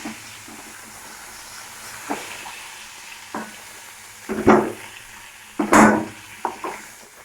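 Fish fry in hot oil with a steady hiss, broken by several loud bursts of sizzling and spattering, the strongest near the end, as pieces are moved in the pan.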